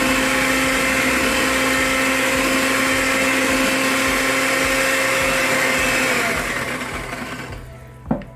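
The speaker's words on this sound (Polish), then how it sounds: "I miksujemy na wolnych obrotach." An electric mixer whirs steadily at low speed through chocolate cake batter with egg yolks, a loud continuous motor hum that winds down near the end and finishes with a brief clunk.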